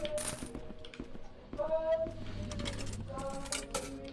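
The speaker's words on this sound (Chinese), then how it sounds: "加硬币" Coins clink as they are fed into a coin slot on a washing machine in a late-night laundromat, several sharp metallic drops and rattles scattered across the clip, close and fairly loud, with a voice and background music.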